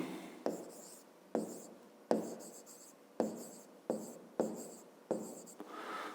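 Pen or pencil writing numbers on paper, heard up close as a series of short scratching strokes at a steady pace, with quiet pauses between them and no talking.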